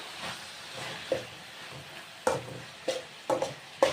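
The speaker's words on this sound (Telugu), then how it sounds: "ఇదిగోండి ఫ్రెండ్స్ ఇలా కలిపేసుకోవాలి." Cabbage fry is stirred in a pan, with a soft sizzle underneath and several sharp scraping strokes of the spoon against the pan, coming closer together toward the end.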